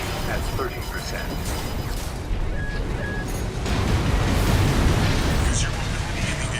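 Explosions in the mech combat game Armored Core VI rumble as a dense, continuous barrage of booms and blasts, loud and sustained with mechanical noise and no speech over it.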